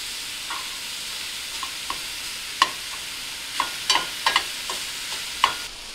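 Pork sizzles steadily in a very hot pan, a broad crackling hiss running throughout with scattered sharp pops and spatters, fairly close and with no talking.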